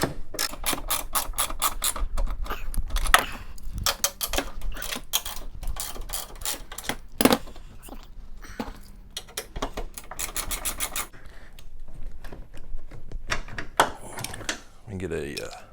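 Ratchet loosening strut mount nuts on a 2011-2019 Ford Explorer, rapid runs of close clicking broken by pauses, thuds and scrapes, with a voice talking in places.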